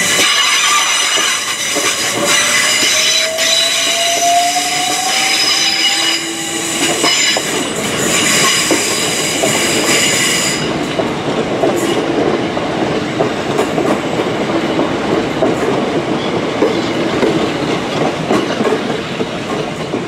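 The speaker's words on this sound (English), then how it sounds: "Next train to depart is the 376." An electric train departs London Waterloo East station, rumbling and clattering as it pulls away, with wheel squeal rising in pitch early on, then a steady rolling rush of carriages passing close by.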